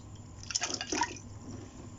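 One litre of water poured into a pressure cooker for cooking mutton, a brief close splashing gush of liquid rising and fading within a couple of seconds, with no talk.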